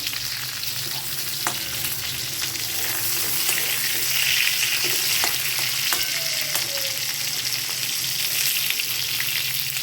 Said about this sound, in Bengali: এর চাইতে বেশি আর পটলগুলো ভাজবো না